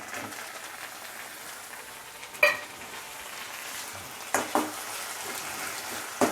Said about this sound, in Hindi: टमाटर को मिला देंगे